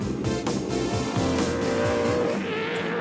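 Shell Championship touring cars race at Calder Park Raceway along the back straight, engines roaring loudly and steadily with shifting pitch and a brief tyre squeal, with no commentary.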